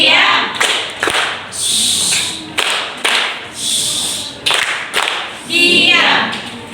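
A school class does the tepuk diam clapping chant: sharp, rhythmic bursts of group hand claps with children's voices chanting in between, loud and close in a classroom.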